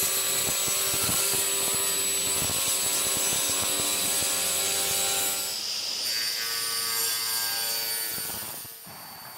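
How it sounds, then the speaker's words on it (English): A table saw ripping a walnut board, a loud steady whine with dense wood-cutting rasp running throughout, shifting in tone partway through and tapering off near the end. "I'm doing most of the ripping because my dad is just learning how to use the table saw."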